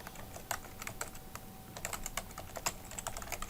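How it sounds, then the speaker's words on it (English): Irregular keystrokes on a computer keyboard while entering an account name into Google Calendar sharing settings, quiet and close, with clusters of clicks and brief pauses over a faint background hum. "just type in the account that you'd like to share it with"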